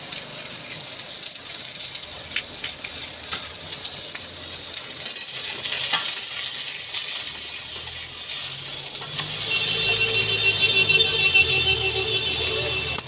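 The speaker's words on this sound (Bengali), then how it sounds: "দেখুন তেল গরম হয়ে গেছে, শুকনো লঙ্কা দিয়ে দিলাম" Greens frying in hot oil with dried chilli and onion, a steady bright sizzle holding throughout and swelling louder in the last few seconds as more goes into the pan, with faint clinks mixed in.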